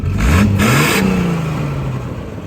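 A 1975 TVR sports car engine revs up close, rising sharply in a throaty surge and then settling back into a steady, loud idle that slowly fades.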